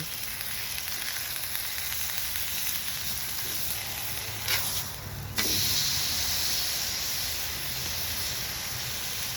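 Barbecue sauce sizzles steadily on a hot griddle beside chicken, a continuous close hiss that briefly swells and then settles back into a constant fry.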